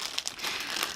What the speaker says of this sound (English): I'm going to open this, so there's going to be crinkling